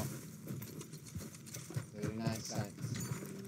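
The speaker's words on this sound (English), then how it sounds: "I don't want to ride you damn horses." Horse hooves clip-clopping in the video game Red Dead Redemption 2: a faint, irregular beat of hoof steps with game sounds around it.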